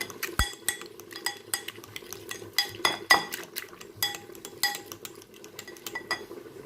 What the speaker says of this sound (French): je vais mélanger ma farine